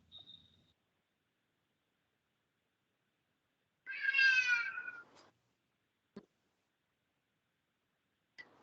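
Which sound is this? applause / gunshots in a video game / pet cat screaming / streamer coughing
pet cat screaming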